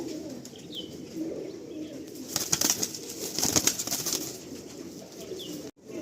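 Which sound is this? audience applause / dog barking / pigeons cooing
pigeons cooing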